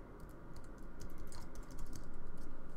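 Rapid typing on a computer keyboard while coding a blackjack game, a steady patter of light key clicks under a constant background hum, close and moderately loud with no speech.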